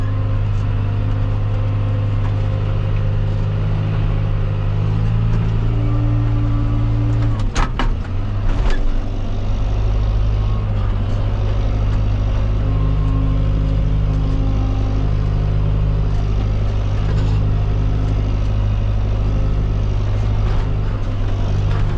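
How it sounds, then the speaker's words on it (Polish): A farm tractor turns around on a rough dirt road during roadwork alongside an excavator, its engine droning steadily and loudly close by, with a brief clatter partway through and no speech. "ciągnikiem to zawrócę"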